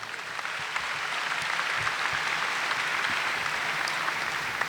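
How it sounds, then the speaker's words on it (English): A school audience claps for the senior sponsor and head counselor at a 2014 high school ceremony, steady, dense applause lasting several seconds with no one speaking over it. "Give them a round of applause"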